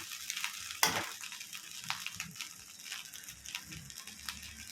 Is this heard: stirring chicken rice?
yes